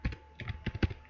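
Quick bursts of keystrokes on a computer keyboard while Java code is typed, uneven clusters of close, crisp taps with short pauses between them.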